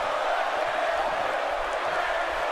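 Steady roar of an arena crowd in a WWE wrestling video game, continuous and broad with no breaks, a wash of cheering noise throughout.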